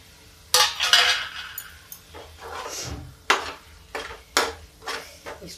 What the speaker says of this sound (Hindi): इसको इसमें इतना मसाला इसी परवल में हम थोड़ा सा मिक्स कर देते हैं।